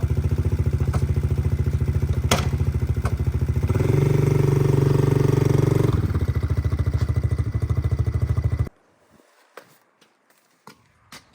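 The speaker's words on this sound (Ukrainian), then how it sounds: "Працює двигун дуже приємно." A CFMOTO CFORCE 110 ATV idles close by with a steady, rapid putter that briefly rises in pitch and volume as it revs, then settles and cuts off abruptly, followed by faint scattered taps and near quiet.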